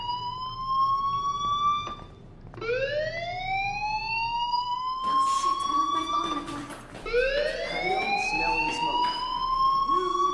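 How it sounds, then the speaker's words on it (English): Fire alarm ringing in Life Is Strange Remastered on Switch, a loud, repeating rising electronic siren wail, each sweep climbing in pitch over a couple of seconds, cycling several times up close. "Hey, do you hear that fire alarm?"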